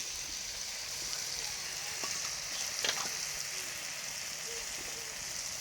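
Spinach in a pan sizzles and fries steadily as cumin paste and mustard paste are added, a continuous close hiss with a brief louder burst near the middle and no talking.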